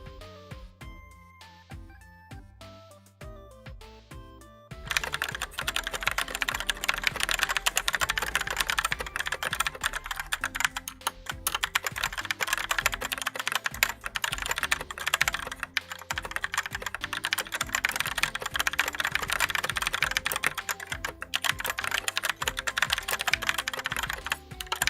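Fingers clatter across a computer keyboard in a fast, continuous stream of close key clicks, preceded by a few seconds of quieter tonal sound before the typing begins.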